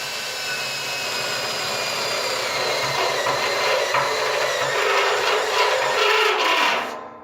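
A drill bit bores holes into a metal barrel, giving a steady, loud grinding whir with raspy friction that holds for about seven seconds, then cuts off abruptly.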